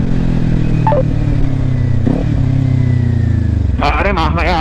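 Motorcycle engine on a year-end group ride, a steady mid-pitched drone close by with rising revs near the end and some clatter, while people talk over it.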